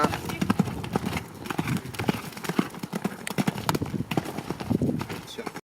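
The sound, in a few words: horse galloping during riding training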